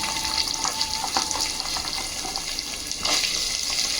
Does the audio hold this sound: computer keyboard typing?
no